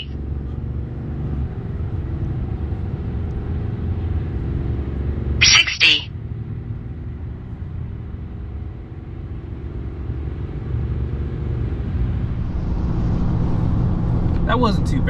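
A 2024 RAM 3500 dually pickup's Cummins diesel engine rumbles steadily and builds as it accelerates hard toward 60 mph, with a brief sharp mechanical chirp partway through and rising whine near the end.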